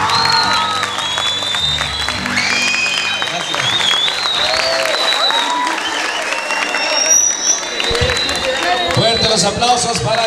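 An audience applauds and cheers after a singer performs a song, with dense sustained clapping and scattered shouts over a busy, lively room lasting several seconds.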